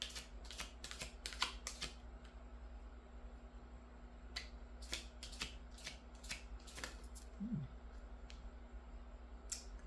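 Tarot cards being shuffled by hand, a quick series of crisp riffling snaps and slides in bursts through the clip, close and fairly quiet, with no talking.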